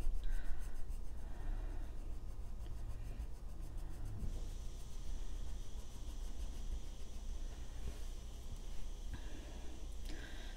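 Continuous close-up scratching of a colored pencil across the paper of an adult coloring book, steady back-and-forth strokes with no voices.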